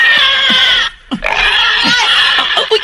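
A pig squeals and grunts loudly and close by, in harsh, continuous bursts with one brief pause, followed by more shrill squealing.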